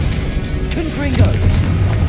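A Confringo spell explosion in the Hogwarts Legacy video game, a loud booming blast that rumbles low and dense through the whole short moment, with a brief voiced sound layered over it.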